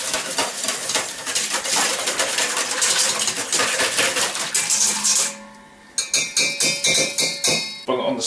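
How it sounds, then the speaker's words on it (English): Egg with a pinch of salt whisked by hand in a bowl, a fast run of close, bright metallic clinks against the sides, then slower separate taps near the end. "an egg, and whisk that up until it's nice and smooth"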